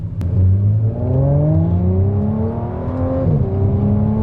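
An Audi S4 with over 350 PS accelerates hard through the gears, its engine note climbing steadily in pitch, dropping briefly at a shift, then rising again. It is loud and close, heard from inside the car.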